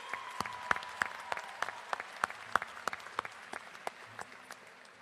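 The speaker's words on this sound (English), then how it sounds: "give this outstanding faculty a round of applause" Sparse, distinct claps ring out from a small group at a community college graduation, scattered and fairly quiet, more like polite clapping than a full ovation.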